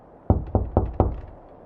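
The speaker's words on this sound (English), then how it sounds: "4 sharp knocks." Four sharp, evenly spaced knocks on wood, loud and close, used as a spirit-rapping sound effect in a dim, quiet room.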